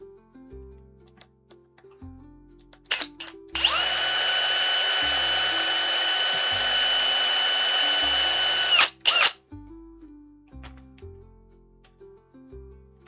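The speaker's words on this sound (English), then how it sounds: "Drill time." Power drill boring through leather for handmade boots, one sustained high whine lasting about five seconds, close and loud, with quieter background music before and after.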